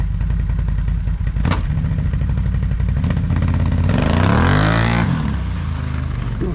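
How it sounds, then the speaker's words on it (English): Can-Am Renegade 1000 ATV fitted with a Yoshimura exhaust revving up close in the rain, a loud rumbling engine that climbs in pitch and falls back, with some clatter. "this video is all about hearing the exhaust"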